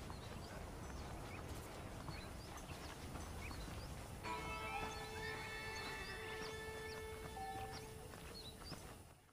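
Horses clip-clop at a steady pace in the Old West video game Red Dead Redemption, a faint continuous patter mixed with bird calls and a sustained tonal music layer.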